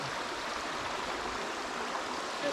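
A brook trout stream in the Appalachian Mountains flows past with a steady, even rush of water. The sound is close and continuous, with no voices.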